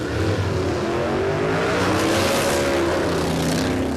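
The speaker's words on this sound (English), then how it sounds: "So Darren squeezed on the throttle there, but you can see he wanted to go" A drag racing car roars down the strip at Warwick Dragway, its engine note climbing steadily through hard acceleration. The sound is loud, continuous and dense, with no voices over it.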